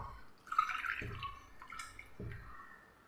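Thick homemade coconut milk, pressed from half a coconut, poured into a cup; soft liquid drips and a brief pouring splash, close and quiet, with no voices.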